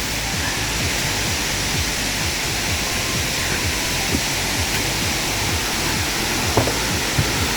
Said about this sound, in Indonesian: terasa kedengaran suara ini air gemericik, gembrocok air.